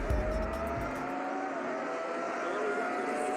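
Race cars start at Laguna Seca raceway, a sustained engine roar carrying across the track, with a brief low rumble at the start and a steady drone afterward.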